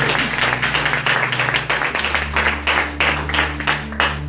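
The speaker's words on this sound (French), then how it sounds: "Acclame fortement le Seigneur." A church congregation claps loudly in a steady rhythm during worship, praising the Lord. A low organ or keyboard drone sustains underneath the applause.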